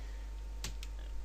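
Computer keyboard keys are pressed as editing shortcuts in Blender: two quick, sharp clicks in close succession over a steady background hiss.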